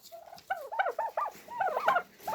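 Young bronze turkeys gobble in quick bursts of repeated, wavering calls, close and fairly loud, with brief pauses between the volleys.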